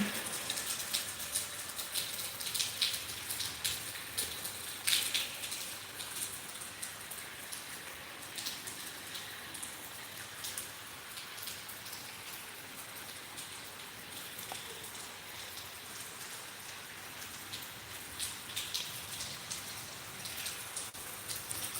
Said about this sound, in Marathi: असा रिमझिम रिमझिम पाऊस पडत असतो